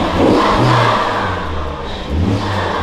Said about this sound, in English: You just hear the engine.